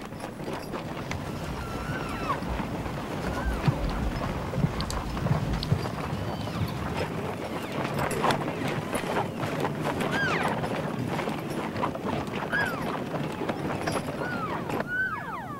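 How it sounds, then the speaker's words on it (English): Draft horses pull hay-laden sleighs through a snowy Grand Teton elk refuge, hooves clopping steadily amid creaking, shuffling and occasional animal calls, continuous and moderately close. "the elk adjust quickly to the horse-drawn sleighs and their cargo of hay"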